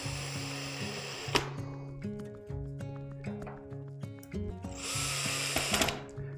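Hardware being screwed onto a painted wood kitchen cabinet with a power driver, short repeated whirring bursts in a stop-start rhythm, close and fairly quiet, with a couple of sharp clicks between runs.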